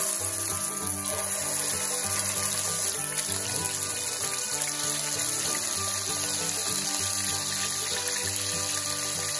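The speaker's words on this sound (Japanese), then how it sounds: "油が温まってきましたらこちらお肉を入れていきます。" Marten meat frying in hot salad oil in a pan over medium heat, a steady loud sizzle and crackle with faint clinks, continuous throughout with no talking.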